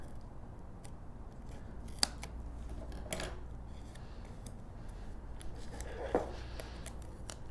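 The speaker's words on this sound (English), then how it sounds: "I can just go ahead and trim these pieces to fit" Scissors trimming scallop-border paper pieces while making a recipe storage box, giving a few soft, sparse snips and clicks close by over a quiet background hiss, with no talking.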